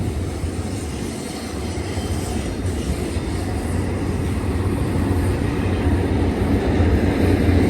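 BNSF freight train cresting Cajon Summit, a loud, steady rumble of rolling wagons with faint clickety-clack that swells gradually as the cars pass close by.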